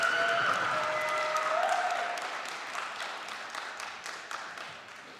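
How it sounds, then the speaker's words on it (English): Applause from a commencement audience honoring graduating Environmental Studies seniors at SUNY ESF's December 2021 ceremony. It is steady and fairly loud, with a few faint voices or tones above it, and it thins gradually toward the end. "Let us applaud the accomplishments of the graduating seniors in the Environmental Studies program."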